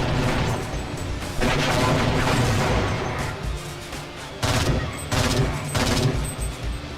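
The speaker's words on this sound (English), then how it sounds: "These machine gunners feel almost like the Combine suppressors from Half-Life Alyx with the machine guns." Enemy machine gunners open fire in a Half-Life 1 mod video game, producing dense, loud, sustained bursts of automatic gunfire with brief dips between volleys and a booming, crashing texture throughout.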